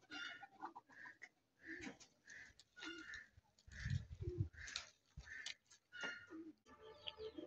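Racing pigeons cooing in soft repeated phrases, quiet and close, with faint background farm-animal and rustling sounds and no talk.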